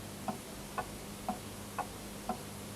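A clock ticks in an otherwise quiet room, giving five soft, evenly spaced ticks about half a second apart, faint and alone.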